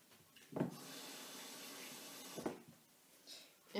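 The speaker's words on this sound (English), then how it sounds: "Now I'm going to just add some water." Water runs from a tap into a bowl in a home kitchen, a soft steady splashing flow with a few louder bursts, close and fairly quiet.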